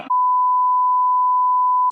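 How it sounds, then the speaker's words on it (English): A steady censor beep covering a swear word, one loud unbroken pure tone of nearly two seconds, clipped by brief fragments of speech at either end. "You can just beep in a swear word or something"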